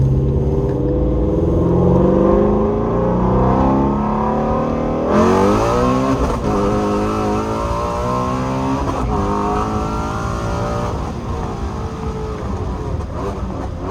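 A Ford Mustang GT350 revs hard through first gear, its engine note climbing, then dipping briefly at the 1-2 shift before rising again, loud and close with no talking.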